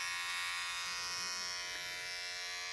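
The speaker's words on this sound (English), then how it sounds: "No clipper guards for me. Just shave the whole goddamn thing off." Electric hair clippers without a guard shave a head at home for a mohawk, buzzing steadily and close throughout with no pause.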